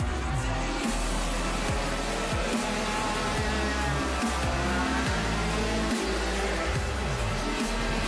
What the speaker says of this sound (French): les moteurs sont partis pour chauffer 5 heures durant